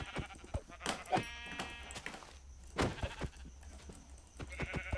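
Several sheep in the Minecraft video game bleat in short, repeated calls spread across the stretch, fairly close and distinct, with game footsteps and small effects between them and no talking.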